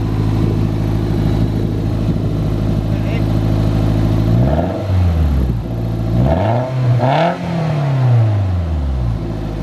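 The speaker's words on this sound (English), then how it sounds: "Give it a little bit of throttle then, Reese." A 2005 Toyota MR2 engine idles with a rough, rattly broken exhaust, then revs up twice in quick swells and falls back each time, loud and close.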